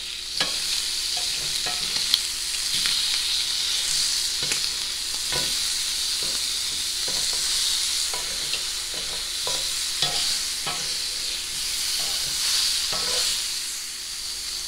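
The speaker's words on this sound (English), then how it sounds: "I've seared the meat probably about 5 minutes on the bone" Bone-in pork pieces sear in a hot pan for a chile verde, giving a steady loud sizzle with a hissy top and a string of scraping stirs and turns throughout, no talking.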